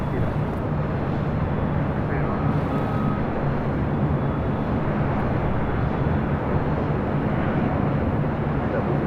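A Delta Airbus A350-900 rolls down runway 25 right at LAX, giving a steady, even roar that fills the whole stretch, with faint indistinct voices in the background.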